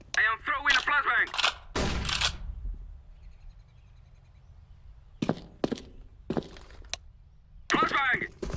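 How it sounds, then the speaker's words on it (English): A flashbang grenade is thrown in Counter-Strike: Global Offensive, marked by a quick cluster of sharp clicks and thuds between stretches of near silence. A voice speaks before and after. "I am throwing a flashbang."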